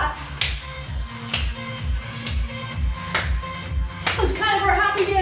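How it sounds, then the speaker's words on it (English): Sharp claps land on a regular beat during a step touch move in a beginner HIIT workout, sounding over upbeat music with a thumping bass line and an instructor's voice. "Step touch with the clap"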